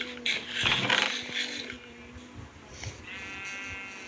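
A Minecraft sheep lets out a couple of nasal bleats close up, mixed in with clicky in-game sounds and short blips.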